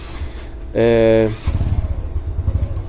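A motorcycle drives away with a short, loud, tonal engine whine that drops into a rough, pulsing low rumble.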